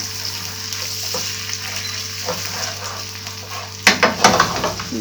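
Tomatoes sizzle in a pan with fried peppers for shakshuka, a steady, close frying hiss that gives way near the end to a few sharp utensil scrapes and clatters.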